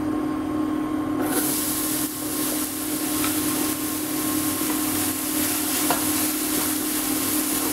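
Chopped onion sizzles and hisses loudly in a hot pan with a browned, melted mixture for sweet and spicy chicken, a steady close frying noise with faint stirring scrapes.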